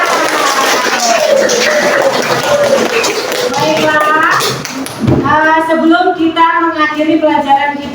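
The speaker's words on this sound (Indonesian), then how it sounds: "Tepuk tangan dulu yang meriah." A class of children in a school classroom breaks into lively clapping and cheering, with sung or chanted voices layered over the rhythmic claps.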